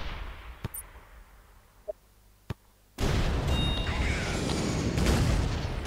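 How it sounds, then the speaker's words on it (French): Airstrike in the tank artillery game ShellShock: a few sharp clicks and small pops, then a sudden loud, sustained roaring explosion barrage that fills the rest, close and dense. "Airstrike. Fire!"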